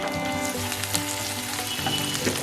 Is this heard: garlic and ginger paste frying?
yes